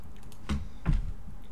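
Two close keystrokes on a computer keyboard while entering a value in the Unity editor, each a short soft tap against quiet room tone.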